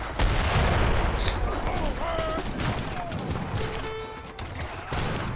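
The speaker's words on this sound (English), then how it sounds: "Five mortars from Ivar pushing the center." Mortars firing in an Age of Empires treaty match video game, with booming, fusillade-like shots and a dense battle din throughout, under spoken commentary.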